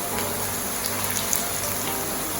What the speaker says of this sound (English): Today's another rainy day.